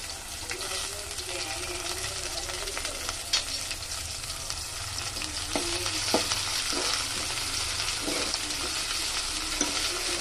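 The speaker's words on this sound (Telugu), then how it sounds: "ఆయిల్లో ఉల్లిగడ్డలు వేసుకుంటున్నా" Onions and green chillies fry in oil in a pan for a liver curry, producing a steady close sizzle with intermittent scraping stir strokes throughout and no talking.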